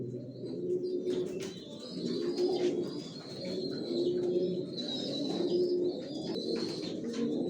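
Racer pigeons in a loft coo in soft repeated rolling phrases, close and continuous, with a few faint chirps mixed in.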